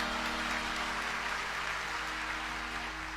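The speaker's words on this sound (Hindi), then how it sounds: "जब 50 जोजन के नाम पर ताली बजा" Clapping from an audience at a devotional discourse on Hanuman, a soft, even, rain-like patter of many hands heard at a distance, overlaid by a steady electrical hum.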